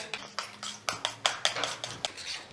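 A spoon clinks against a bowl while stirring a cream of banana peel and cornstarch, with a steady rhythm of about a dozen sharp metallic taps at close range.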